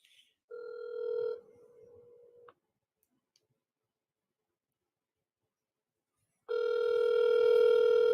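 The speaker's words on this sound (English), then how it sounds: "Let's see if my mom answers the phone." A telephone ringback tone heard over a call line: a steady electronic ring for about two seconds, a long silent pause, then the ring starts again loudly and holds to the end.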